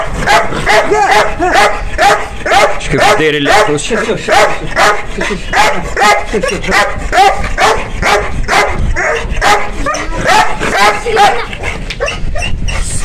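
Young Malinois puppies yapping and barking in rapid, repeated bursts close by, with people talking throughout.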